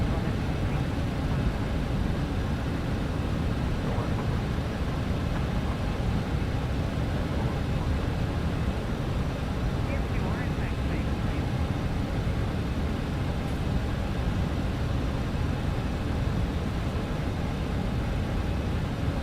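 BAe 146 airliner engines in the Microsoft Flight Simulator 2020 video game, a steady, dense jet roar and hiss that holds at one level throughout with no talking.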